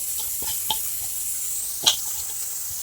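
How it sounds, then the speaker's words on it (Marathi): Water is poured into a pot of washed rice, giving soft splashing and a few faint drips and clinks against a quiet background hiss. "पाणी ओतून घ्यायचं"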